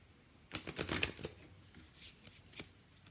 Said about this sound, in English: These cards are so big, they're almost too hard to shuffle.